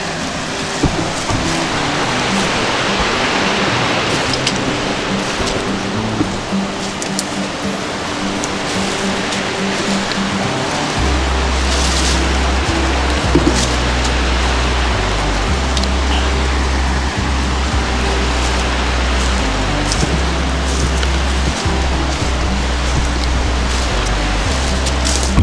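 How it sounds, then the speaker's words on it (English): Fast river water rushes in a loud, dense, unbroken roar throughout, close by, with a steady low hum joining partway through and no speech. "Getting into the fast water here."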